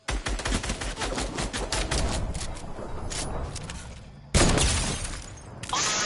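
Gunfire in Fortnite, attributed to a sniper rifle, cracks out in repeated loud bursts, with rapid shots and sharp breaking noises packed together, cut by a brief silence before a final burst of firing.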